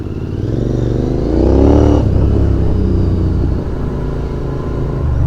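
A Royal Enfield Continental GT 650 motorcycle rides off on a road, its engine rumbling and rising in pitch as it accelerates before settling into a steady, loud drone.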